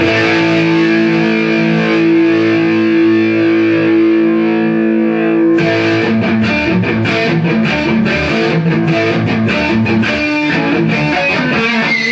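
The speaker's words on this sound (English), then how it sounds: "that's the distortion built in the amp." An electric guitar plays through an amp's built-in distortion with both pickups on: a sustained, heavily overdriven chord rings for several seconds, then a run of rapid, crunchy strummed and picked notes follows, loud and close with no talking.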